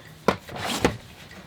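A plastic drawer unit from Target, screwed to the floor of a 4x4 Mercedes Sprinter camper van, is opened and closed with two short sliding rubs and knocks, close and fairly quiet.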